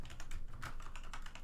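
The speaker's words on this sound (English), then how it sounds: "oh, I'm typing in the wrong place." A computer keyboard clacks in quick, uneven bursts of keystrokes, steady close typing with no voices over it.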